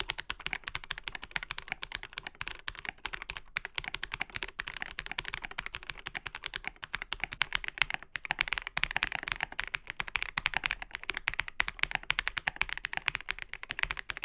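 Steady, fast typing on an Ikki68 Aurora R2 mechanical keyboard fitted with a tape mod, a continuous close run of muted, poppy keystrokes with no talking.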